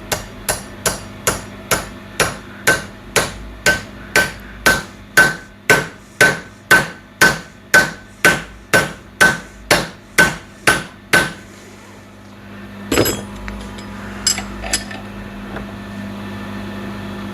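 A hammer strikes a seized brake part on a 36-year-old Honda TRX350D ATV with about twenty loud, evenly spaced metallic blows. They stop near the end, followed by a few scattered clanks.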